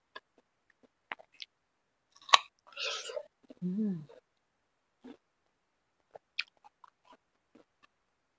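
Crisp, crunchy guava being bitten and chewed up close, a few sharp crunches separated by quiet gaps, with a short stretch of soft speech mid-way.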